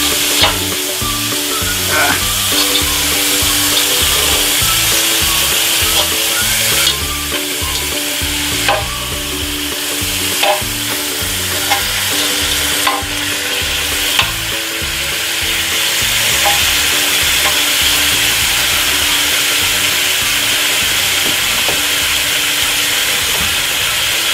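Beef roulades searing in a Petromax ft6 Dutch oven, a loud continuous sizzle and crackle of frying meat with occasional sharper pops and bursts, close and steady throughout.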